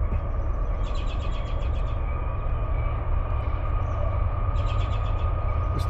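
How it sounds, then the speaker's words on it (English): A train rumbles past up close, giving a loud, steady low roar. Repeated high-pitched chirping or squealing comes in twice over the noise, and no one speaks. "First train of the day"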